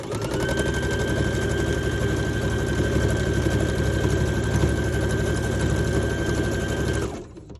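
A sewing machine running steadily while stitching a decorative pattern on Christmas fabric, a continuous fast whirring hum with rhythmic needle chatter that holds at even loudness for about seven seconds before stopping abruptly.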